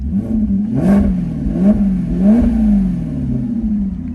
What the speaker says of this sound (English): We'll give it a couple more revs